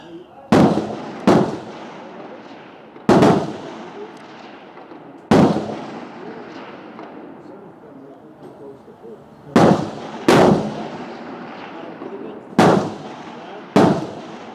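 A Swiss Martini Jagdstutzer rifle fires eight sharp, loud shots at uneven intervals, each crack followed by a short decaying echo across an open outdoor range.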